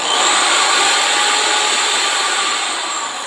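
A KYK impact drill runs continuously in hammer mode, a loud, steady, high-pitched motor whine with broadband rattle that holds for about three seconds and eases only slightly toward the end, with no talking.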